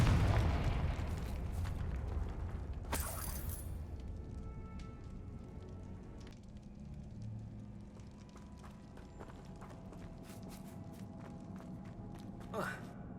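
The Confringo blasting spell goes off in Hogwarts Legacy near a cave, with a sharp blast followed by rumbling game ambience, footsteps and scattered crackles, while characters talk over the scene.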